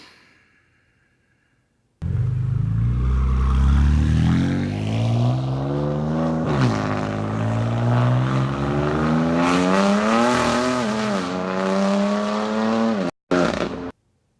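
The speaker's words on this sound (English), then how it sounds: "The S55 is single-handedly the worst sounding engine that BMW has made." A BMW M4 with the S55 engine accelerates hard and loud, its rising engine note climbing through the gears with brief dips at the shifts, alone after a short quiet start.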